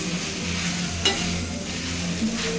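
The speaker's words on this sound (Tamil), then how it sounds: "ரெண்டு கரண்டி வச்சு கலக்கி விட்டால் தான் நல்லா கலந்து வருது" Kothu chapati with egg masala being stirred and chopped with two ladles in a pan, a steady scraping stir over soft sizzling frying, close and continuous, with a sharper metallic clank near the middle.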